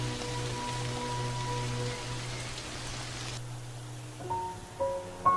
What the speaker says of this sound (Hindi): लेकिन ये बेमौसमी बारिश बंद होने का नाम ही नहीं ले रही